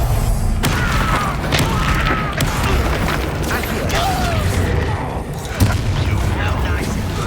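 Explosion spells burst in the video game Hogwarts Legacy amid combat, with repeated booms and crackling impacts over a dense, noisy battle backdrop while a voice talks intermittently.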